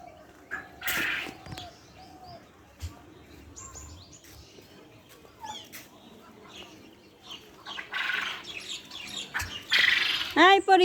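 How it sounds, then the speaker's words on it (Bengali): A chicken gives several loud, scattered squawks and clucks close by, with bird chirps in between and people talking quietly in the background. "এই দেখো মুরগিকে দেখো।"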